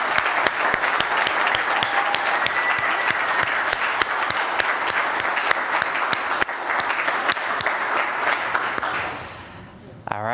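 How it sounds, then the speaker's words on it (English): A crowd at the WordPress State of the Word 2021 event applauds the organizers and slide makers, a dense sustained round of clapping with some voices mixed in, fading out near the end. "let's have a round of applause for the folks who put this event together and for our excellent slide makers"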